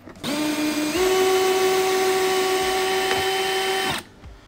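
Power drill whirring steadily as it backs screws out of a trolling motor mount on a Tracker Pro Guide V-16 WT boat, a close, loud continuous whine that steps up in pitch briefly before stopping.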